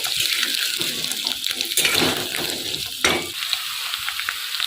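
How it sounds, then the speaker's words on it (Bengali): Medium-sized potato pieces fry and get stirred in a pan for aloo posto, a steady broadband sizzle with louder scraping stirs around two and three seconds, close and continuous. "এবার আলুগুলোকে আমি একটু নাড়াচাড়া করে ভেজে নেব"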